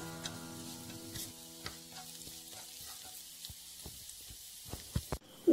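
Chopped ginger and green chillies sautéing in a pan for prawn dum biryani, a soft continuous sizzle with scattered light taps and stirring clicks, ending in a sharper clatter; background music hums beneath.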